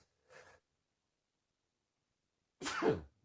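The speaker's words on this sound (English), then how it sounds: "got to sneeze" A single close, sharp sneeze bursts out after a brief faint earlier breath or sniff, with silence between.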